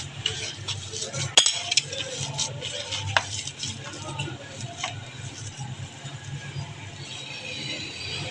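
Keema roti dough being mixed with ghee in a bowl, giving soft irregular squelching and scraping with occasional sharp clinks against the bowl, close up, with light background noise.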